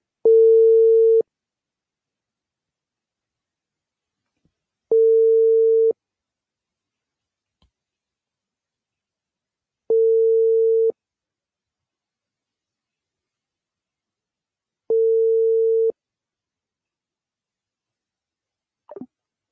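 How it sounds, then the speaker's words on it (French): A telephone busy signal repeats four times, each loud steady tone lasting about a second with long silent gaps between, alone and with no talking. "L'appareil est en train de sonner, mais il ne prend pas"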